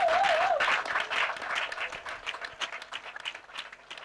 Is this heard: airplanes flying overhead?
no